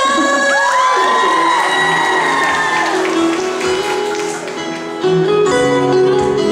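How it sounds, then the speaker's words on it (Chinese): A concert audience at a Taiwanese folk-song show in a Tainan theatre screams and cheers loudly in a sustained wave, the shrieks fading slightly before surging again near the end. "尖叫声！"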